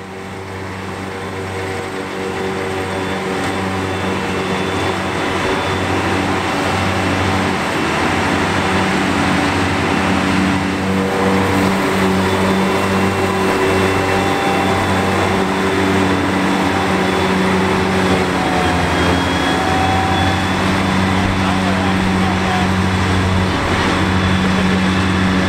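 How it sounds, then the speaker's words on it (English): Big hay mowers working a field, a steady droning engine and cutter hum with a constant low tone, loud and continuous throughout with no talking. "I hope you've enjoyed hearing and seeing all these big hay mowers at work"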